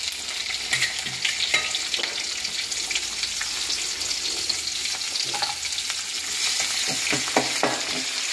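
Onion, green chillies and ginger fry in a pan with a steady crackling sizzle, broken by the scrape and clatter of stirring and a few sharp pops, close and fairly loud with no talking.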